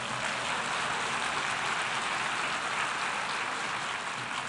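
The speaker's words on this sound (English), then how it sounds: "so give yourself a round of applause." An audience at a United Nations International Women's Day 2023 event in New York applauds, a dense, even wash of clapping that holds steady and loud throughout without pause.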